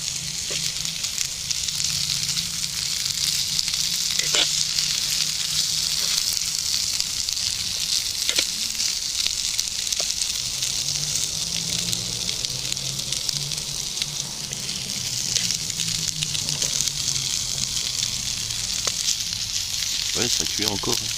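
Coltsfoot flowers frying in butter in a pan outdoors in the woods, a loud continuous bright sizzle with occasional pops, low murmuring voice underneath at times.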